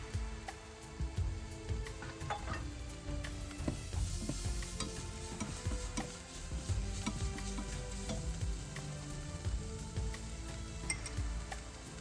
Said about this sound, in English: Now add 2 tablespoons of pudina leaf and 2 tablespoons of coriander leaf. Saute.